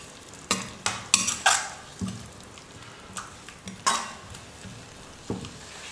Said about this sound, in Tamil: மசாலாலாம் சேர்த்துட்டு 5 நிமிஷம் வந்து நல்லா நான் வதக்கிக்கிட்டேன்